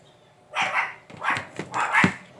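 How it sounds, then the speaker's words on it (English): Angry pet dogs barking indoors in three loud bursts about half a second apart, close to the microphone with no talking. "My dogs are a little angry right now."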